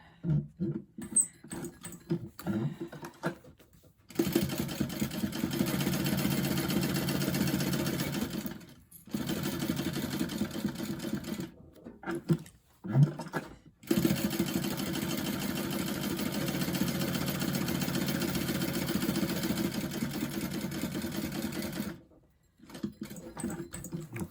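A sewing machine basting close to the edge of a swoosh bag runs in several steady bursts of a few seconds each, separated by short pauses, close and fairly loud.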